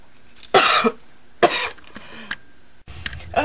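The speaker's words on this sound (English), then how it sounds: "sorry about that coughing spell" Several harsh, close coughs in a short burst, with brief pauses between them and no talking.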